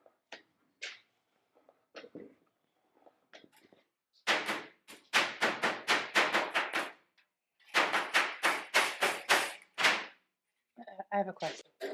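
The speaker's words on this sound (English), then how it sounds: "Hit it with the hammer." Hammer blows on a sheet-metal strip for the rear window and top section of a 1940-41 car, struck in rapid bursts of sharp, loud, close raps separated by short pauses, with faint talk in the gaps.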